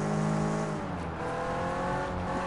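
A car in the Sleeping Dogs game, set in Hong Kong, accelerates with a loud revving engine whose pitch climbs and shifts through gears, and a brief tire squeal; the engine is near and continuous with no talk.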